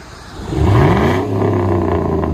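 A 2007 Chevy Avalanche LTZ with a 5.3L V8 and a muffler delete revs up from idle to a deep, loud exhaust rumble, holding it briefly before easing down slightly, close by.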